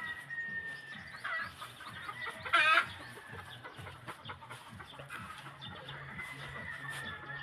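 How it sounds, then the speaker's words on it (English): Young pullets in a poultry breeding compound cluck softly and intermittently against a low, steady background. A brief louder burst of clucking comes near the start. "These are just some young pullets in this one."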